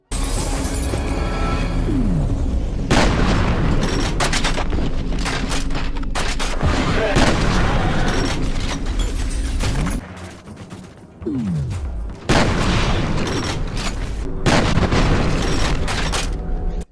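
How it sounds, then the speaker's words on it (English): Shotgun blasts from the video game F.E.A.R. boom in several heavy bursts with shattering debris and explosive crashes, separated by brief lulls, loud and close. "when you shoot someone with a shotgun here, occasionally they'll just turn into red mist"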